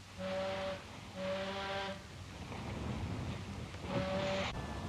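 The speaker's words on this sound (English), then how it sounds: "Give them 3 cheers on the whistle." Ship's steam whistle in a 1944 wartime Atlantic setting, sounding three loud blasts in a steady rhythm, each about a second long, over wind and surging sea noise.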